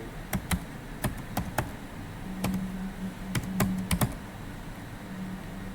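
Typing on a computer keyboard while filling in a visa form online: irregular clusters of close, crisp key taps over a faint steady background hum.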